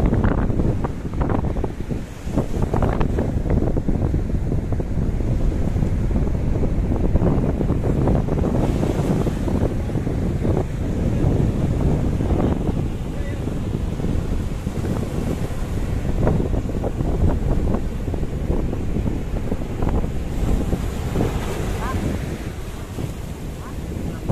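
Wind buffets the microphone at Sinar Laut beach in Agrabinta while waves roll and break continuously in a steady, loud roar, with no clear talk.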